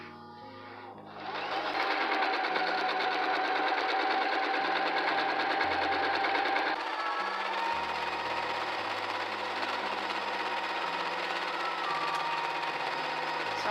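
A sewing machine stitches satin fabric around the perimeter of a circle for a hair bonnet, running continuously in a fast, even mechanical whir after a quiet start, with a slight shift in pitch partway through as it keeps going.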